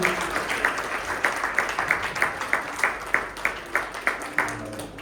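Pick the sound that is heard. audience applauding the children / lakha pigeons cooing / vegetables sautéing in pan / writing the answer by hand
audience applauding the children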